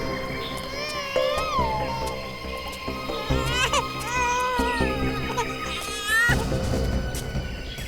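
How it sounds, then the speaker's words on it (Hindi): A baby cries in a TV crime drama scene, with wavering wails repeated over several seconds against a droning background score. "उस तरफ से बच्चे के रोने की आवाज आ रही है।"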